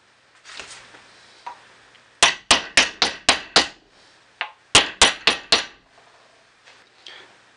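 Tapping with a small wooden block on the lower door hinge of a 1967 Ford Mustang: two close bursts of sharp knocks, five to six quick taps each, separated by a brief pause, loud and close with no talking.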